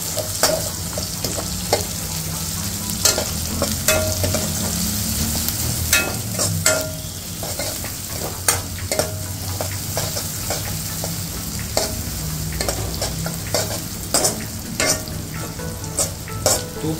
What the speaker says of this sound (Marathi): हे सगळं टाकून झालं त्याला जरा मिक्स करायचं. तर कांदा असा फुलून घ्यायचा आहे.